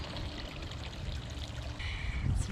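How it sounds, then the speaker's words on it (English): Water pours and trickles steadily down a small garden waterfall into a fish pond in a continuous, moderately quiet splashing stream, with faint outdoor background sounds. "Lovely waterfall."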